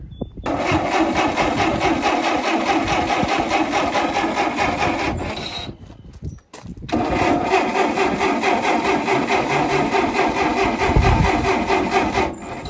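An old Oliver tractor engine cranks over and over without catching: a loud, steady churning run, a brief pause near the middle, then a second long cranking burst. No one speaks.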